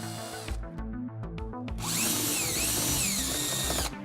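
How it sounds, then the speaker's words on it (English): A power drill with a 1/4 inch bit whirs in short bursts, then bores steadily through plastic OEM rivets on a vehicle fender, loud and close, with no talking. "With your 1/4 inch drill bit, remove the 2 upper plastic OEM rivets"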